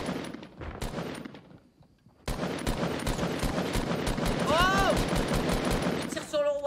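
Rapid gunfire in Fortnite Battle Royale, dense bursts of shots rattling continuously at close range with warbling game effects, while players talk excitedly over it.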